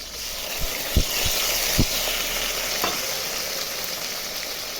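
A ginger, cumin and chili paste hits potatoes already frying in a pan, giving a loud, steady sizzle with a few sharp scrape and clunk knocks near the start, no talking.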